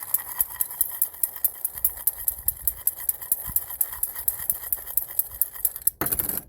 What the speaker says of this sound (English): Give it a good mix here.